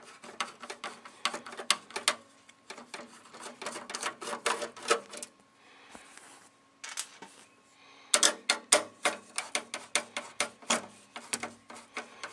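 Screws are worked out of a PC case's main fan mount with quick rapid clicking ratchet-like bursts, close and fairly faint, pausing briefly mid-way before another fast run of clicks.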